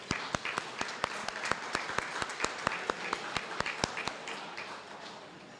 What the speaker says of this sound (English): please help me give everybody a round of applause